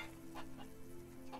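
Farm chickens cluck in the Farmer's Dynasty video game, a few faint, short clucks scattered over a quiet, humming background.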